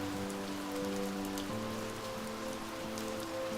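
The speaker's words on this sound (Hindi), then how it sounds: "उस बारिश की आवाज ने गौरव की मन की आवाज को भी शांत कर दिया।" Steady rain falls in a Hindi audio drama, a soft, even hiss of drops that runs throughout beneath sustained low musical tones.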